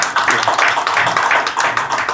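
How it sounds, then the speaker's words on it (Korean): Audience applause at a memorial ceremony, a steady patter of many hands clapping in fairly even waves, close and moderately loud with no voices over it. "박수 한번 쳐주시죠"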